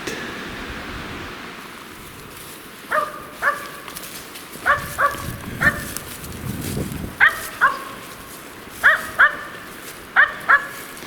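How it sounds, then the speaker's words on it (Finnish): A hunting dog barks in short bursts of one or two yaps, repeated at intervals, somewhat distant outdoors in a forest over a faint rustling background. "Vielä se meni siihen haukahtelemaan."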